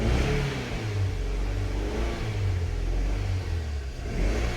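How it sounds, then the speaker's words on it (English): A 2008 Scion xB idles with an ignition coil misfire, a close, loud, low rumbling drone whose pitch wavers and stumbles unevenly throughout, with no talking. "So when I start the car, it misfires"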